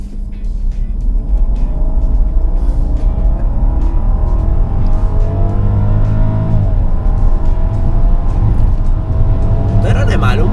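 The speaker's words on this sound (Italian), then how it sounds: "proviamo a fare una partenza da fermo, chiaramente senza far fumare le gomme" A Rolls Royce Phantom with a V12 pulling away from a standstill, a deep, steady engine roar rising smoothly in pitch under continuous cabin talk, close and loud throughout.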